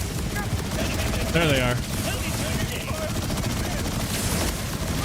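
Rapid automatic gunfire from a weapon in the looter-shooter game Borderlands 4 during a boss fight, dense and continuous over a steady mix of game effects, with someone talking briefly over it.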